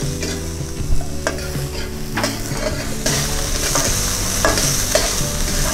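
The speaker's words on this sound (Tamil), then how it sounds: "பொரிஞ்சதுக்கப்புறம் சின்ன வெங்காயம் பொடிதாக நறுக்கி வச்சுருந்ததை போட்டு நல்லா வதக்கிக்கிறோம்" Chopped small onions sizzle steadily in hot oil, with repeated scraping stirs of a spatula against the pan.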